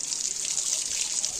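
A garden hose spray falls on flowering summer plants, making a steady, close hiss of fine water droplets that holds evenly throughout with no pauses.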